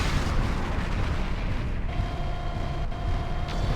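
A turret control facility blowing up in the video game MechWarrior 4: Vengeance, a loud, sustained rumbling blast with dense crackling booms filling the whole stretch, a faint tone emerging partway through.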